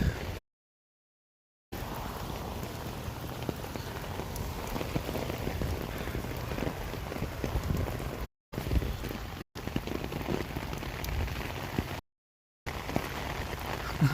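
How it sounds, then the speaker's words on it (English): Heavy rain in gray, cloudy Sitka pours down as a steady dense hiss close by, with brief cuts to silence along the way. "Rain and clouds and gray as far as the eye can see."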